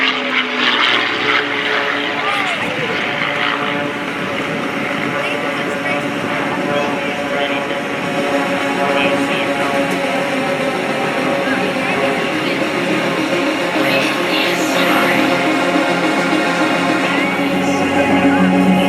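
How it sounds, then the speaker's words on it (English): Propeller engine of an aerobatic airplane descending in a flat spin at a county airshow, a steady droning roar with a pulsing, wavering tone that carries throughout, fairly loud and unbroken, with a commentator talking over it. "The airplane is in a perfect flat spin coming down."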